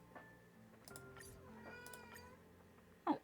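A cat meows in the video game Honkai Star Rail, a few soft, clear mews over a quiet game backdrop, ending in one louder, sharper meow.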